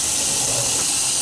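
Tap water pours steadily into a small WonderWash manual washing machine, a continuous close hiss with no pauses and no talking.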